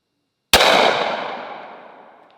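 A single sharp pocket pistol shot fired at a target, one loud crack close by that rings out into a fading reverberant tail lasting about two seconds.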